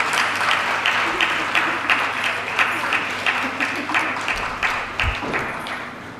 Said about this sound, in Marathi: एकदा जोरदार टाळ्या त्यांच्यासाठी वाजवूया.